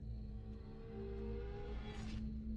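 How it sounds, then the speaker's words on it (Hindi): A large car's engine hums and revs as it rolls up outside a morgue and comes to a halt, with a faint squeal near the end. "एक बड़ी गाड़ी मुर्दाघर के बाहर आकर रुकी।"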